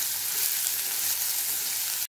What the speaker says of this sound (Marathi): तेल तापल्यावर हा कांदा परतून घ्यायचा आहे